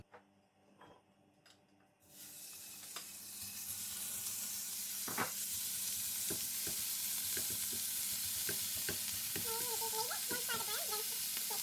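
Onion and capsicum frying with spices in a pan: after a quiet opening, a steady, close sizzle swells up around two seconds in and holds, with occasional stirring clatter and a few faint clicks.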